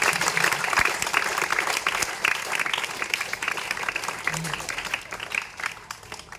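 A crowd at a government school event, where the Rotary Club of Armoor donated a sound system, gives sustained, dense applause that tapers off toward the end.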